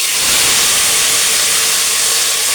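Tomatoes hitting a hot pan of golden-browned dals, including urad dal, for an amla herbal biryani, giving a loud, steady sizzling hiss that holds for the whole stretch with no voices.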